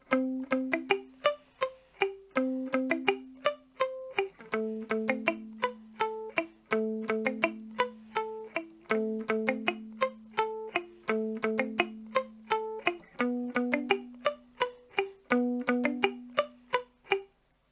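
Guitar strums through a repeating four-chord 1950s doo-wop ballad progression, each chord struck crisply in a steady rhythm, played alone and close.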